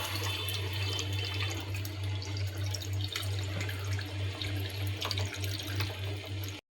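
Water poured steadily into a pot of chicken curry, a continuous close splashing pour with a constant low hum underneath, no talking.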